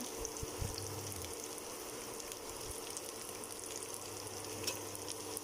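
Boiled young jackfruit is stir-fried in a pan with fish sauce, giving a soft, steady frying crackle, faint and even, with a couple of quiet low knocks from the utensil near the start.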